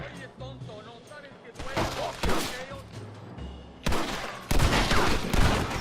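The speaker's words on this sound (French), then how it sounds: "Dans le doute, on va mettre le double canon." Double-barrel shotgun blasts in the Western video game Red Dead Redemption, several loud booming shots at irregular intervals over game ambience, with someone commentating throughout.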